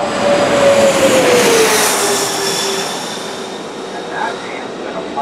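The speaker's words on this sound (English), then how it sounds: "Here we've got a plane coming in right now." A small plane comes in to land at San Diego airport, heard from a trolley tour as a loud roaring jet-engine whine with a falling tone that gradually fades as it passes overhead.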